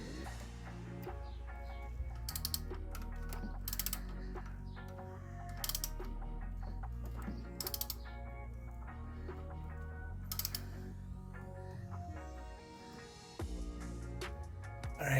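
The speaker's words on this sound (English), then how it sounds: "I'm gonna rotate the crankshaft until I get the void on the camshaft" A ratchet turns the crankshaft of an Alfa Romeo 1.4 engine, giving quiet rapid pawl clicking in short bursts with occasional sharper metallic taps, close up with no talk.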